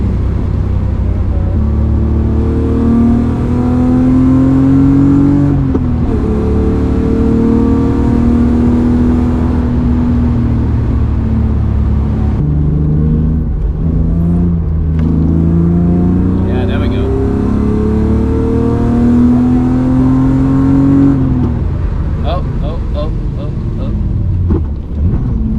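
BMW E36 driven hard on a race track during a track day, its engine droning and revving steadily through the gears, loud and close, with someone talking over it almost throughout.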